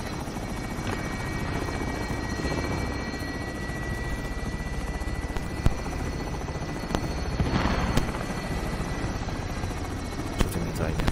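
Helicopter in the video game Call of Duty: Warzone, a steady rotor drone and engine whine holding throughout at moderate level, with brief thuds and game noises over it.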